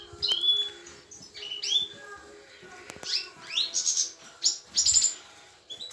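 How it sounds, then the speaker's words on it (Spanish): A goldfinch and a yellow canary kept as a breeding pair in an aviary chirp and tweet in quick, bright bursts, close by and fairly loud, with short trills spread across the moment and no talking. "Aquí tenemos un jilguerico muy guapo de nido, con su canaria amarilla."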